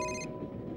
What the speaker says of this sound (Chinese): 您手机响了